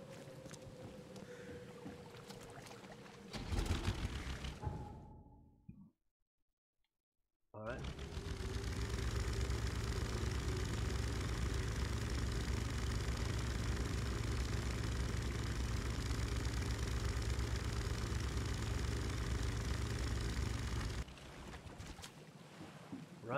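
A boat engine drones steadily in The Sinking City video game, a loud continuous rumble that starts after a brief silent gap and runs for about fifteen seconds before easing off.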